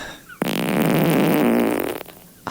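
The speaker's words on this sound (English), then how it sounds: "Fart number 4." A single long, loud fart rasps continuously for about a second and a half, starting abruptly and cutting off sharply, with no talk over it, played during a podcast.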